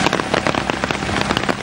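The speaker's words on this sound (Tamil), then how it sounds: "இன்றைக்கு திரும்பவும் மழை வந்திருக்குது" Steady rain pouring down during a flood-hit spell of wet weather in Mullaitivu district, a dense continuous hiss with scattered nearer drops pattering on surfaces, no voices.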